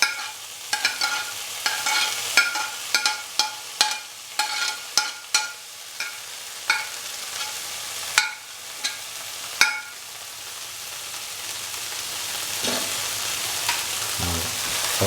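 Overnight-soaked black-eyed beans fry in a spice masala of coriander and turmeric powder, with a run of sharp spoon scrapes and knocks against the pan over a soft sizzle that fades to a steady hiss.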